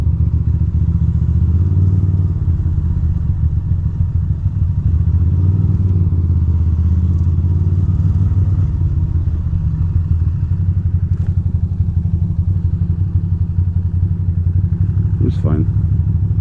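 A scooter engine idles and putters steadily while the rider parks on a Manhattan street during a morning commute, a loud low rumble running throughout with occasional clatter, and someone talks over it.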